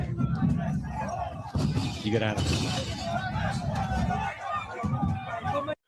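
An angry street crowd shouts and surges while chasing people, with clattering and crashing impacts amid the chaotic babble of many voices and someone speaking over the noise.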